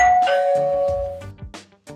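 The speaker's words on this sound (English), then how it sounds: "it will play a doorbell sound on your gateway" A Xiaomi or Aqara smart-home gateway plays a doorbell chime triggered by the Xiaomi Zero smart doorbell button: a clear, close ding-dong of bright ringing tones that decay, then a few softer follow-up notes.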